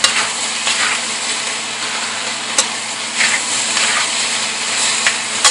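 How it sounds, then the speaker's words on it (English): Chopped tomatoes being stirred into pork masala frying in a kadai, a loud, close, continuous sizzle broken by scraping stir strokes and occasional clanks, with no voices. "I will reduce my thing to medium and then mix these tomatoes in"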